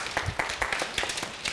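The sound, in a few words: classroom clapping for a student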